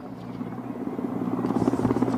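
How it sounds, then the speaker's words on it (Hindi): BSF Air Wing Mi-17 V5 and Mi-17 V1 helicopters flying over a parade, a steady throbbing rotor drone with a rhythmic beat that grows slightly louder over a couple of seconds. "सीमा सुरक्षा बल एयरविंग के हेलीकॉप्टर्स Mi-17 V5 तथा Mi-17 V1 राष्ट्र ध्वज व बीएसएफ ध्वज आसमां की ऊंचाइयों पर फहराते"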